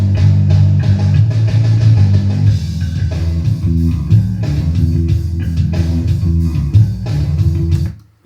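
A funky electric bass line locks in with a drum loop, deep plucked notes riding over steady kick, snare and cymbal hits, loud and continuous before cutting off at the end.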